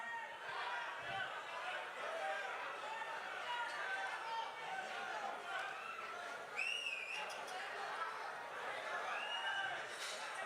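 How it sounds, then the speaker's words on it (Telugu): Crowd at the Kannappa pre-release event in a large venue, shouting, cheering and whistling with joy as a steady, dense roar of chatter, with shrill whistles rising above it. "అంటే ఇది ఆనందంలో వచ్చే అరుపులండి,"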